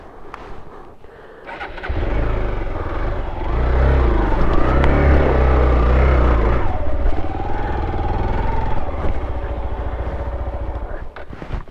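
Hero Xpulse 200 motorcycle climbing uphill off-road, its engine rising into a loud sustained roar after a quieter start, throttle pulsing near and steady until the end.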